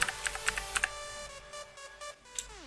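Keys tapped on a computer keyboard, a quick run of light clicks and then a few scattered presses, close and quiet under a steady whine with no talk.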